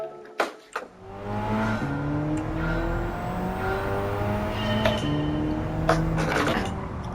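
A car in Gran Turismo 7 revs up and climbs through several gear changes, its engine note rising and dropping steadily after a couple of sharp clicks at the start.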